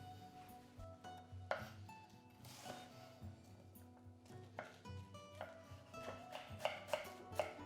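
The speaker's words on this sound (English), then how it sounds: "a quarter of cabbage is plenty. Then what we're going to do is slice it very thinly." A knife thinly slicing a quarter of a cabbage on a cutting board, with quiet, irregular taps and crisp cuts that come faster toward the end, set among faint kitchen clatter.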